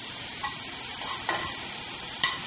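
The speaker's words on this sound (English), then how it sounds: "you're going to give them a nice sear so that they have a nice meaty texture" Steady, soft sizzling of mushrooms searing in oil in a pan, with a few light scraping and clinking sounds of stirring now and then.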